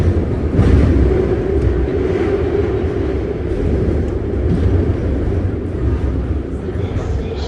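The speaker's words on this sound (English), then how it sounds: "here we are departing Embarcadero, with our next stop being Montgomery Street." A BART train departs Embarcadero station in San Francisco, a loud continuous rolling rumble and hum of the rail car from inside, steady throughout.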